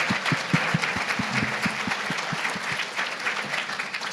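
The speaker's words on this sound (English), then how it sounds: "let's do one more round of applause" Audience applause at a WISE Forum partnerships event, a dense, steady round of many hands clapping throughout, fairly close and full with no talk over it.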